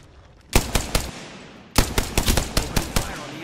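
Flatline rifle gunfire in Apex Legends, two loud close bursts of rapid automatic shots, the first burst short and the second longer, with a brief pause between them.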